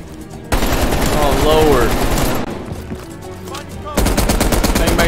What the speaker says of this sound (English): I don't even know where I'm getting shot from.